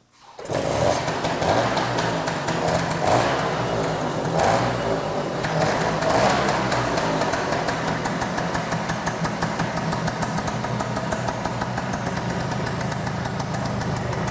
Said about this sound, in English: Let's see if it starts. We've never started this motor.